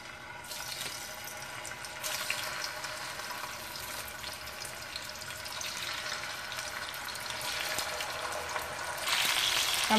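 Chicken wings dropped into hot oil, frying with a steady broad sizzle and crackle that fills the clip, close up and continuous, growing slightly louder toward the end.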